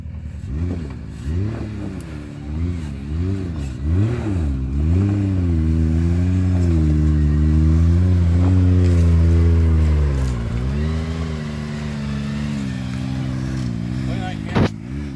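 An off-road vehicle's engine revs in low gear, rising and falling in repeated surges and then holding a sustained loud drone, with people talking over it near the end.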